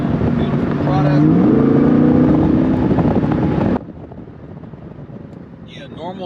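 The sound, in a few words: C8 Corvette accelerating hard off the line in sport mode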